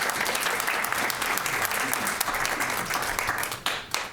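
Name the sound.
audience clapping at a planning board meeting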